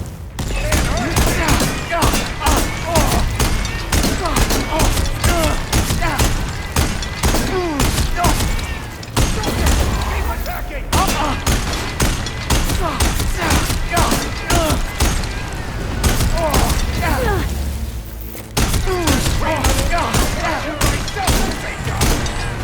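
Rapid, loud volleys of gunfire in the video game Horizon Forbidden West keep going almost without a break, with thumping impacts and occasional voices over them.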